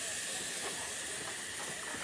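A steam locomotive gives off a continuous broad hiss of escaping steam, fairly quiet and steady, with faint rail clatter beneath it.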